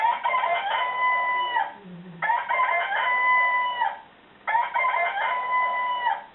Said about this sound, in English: Cockerel's most popular on some talking alarm clocks.